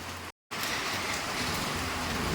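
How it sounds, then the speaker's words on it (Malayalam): Steady, dense rain hisses evenly along a street of small shops near a temple town, broken by one brief dropout, with no voices over it. "നല്ല മഴയുണ്ട്"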